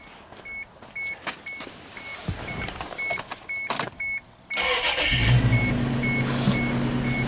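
A car with an ignition problem on cylinder four has its coils reinstalled. Regular electronic chimes pulse first, then the engine cranks to life and settles into a loud, steady idle that runs to the end.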